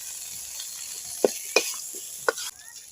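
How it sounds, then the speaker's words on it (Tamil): Herbs sautéing with tamarind and pepper in a pan for a village-style herbal thuvayal, a low sizzle with three sharp stirring scrapes spaced about a second apart. "அது கூட கொஞ்சம் புளி போட்டு வதக்கிக்கலாம் கொஞ்சம் மிளகு போட்டுக்கலாம்"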